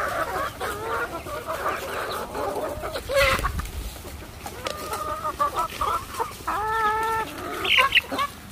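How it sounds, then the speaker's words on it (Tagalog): Chickens on a farm cluck and squawk in an agitated commotion, several birds calling in overlapping bursts close by, with harmonic cries rising toward the end. "Nagkakagulo ang mga manok."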